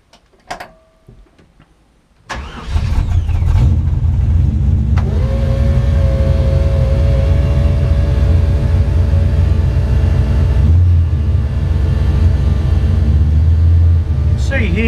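After a few faint clicks, a car engine fires up loudly and settles into a steady close idle, with the throttle dabbed to lift the revs briefly, and someone speaks over it.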